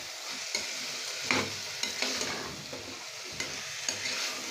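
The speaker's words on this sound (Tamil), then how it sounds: "காய் போட்டு கொஞ்சம் வதக்கி விட்டுட்டு" Vegetables sautéing for homemade vegetable biryani, with a steady sizzle and repeated scrapes of a spoon stirring through the pan, close and fairly loud, with no talk.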